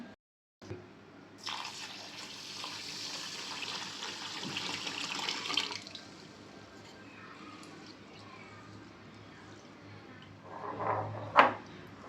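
Water is poured steadily into a container of rice for several seconds, a broad splashing rush, followed by quieter handling and a few clinks near the end.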